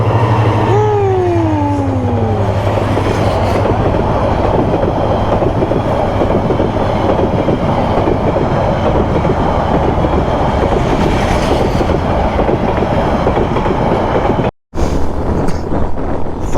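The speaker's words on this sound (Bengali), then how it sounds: "ট্রেন যাবে এখন।" A train rolls through a railway crossing in Bangladesh, loud and close, with a continuous rumble, rattling wagons and clickety-clack for the whole stretch, a horn-like tone near the start, a brief dropout near the end and no talk.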